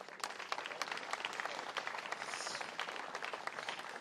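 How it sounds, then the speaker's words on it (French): An audience claps in steady, dense applause at a political speech in Domrémy, heard fairly faint and distant, with no talking over it. "Vous pouvez vous-même vous applaudir."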